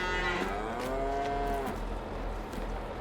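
Cattle in the Farming Simulator video game moo in long, drawn-out lowing calls over a steady low background hum, with several overlapping moos across a few seconds.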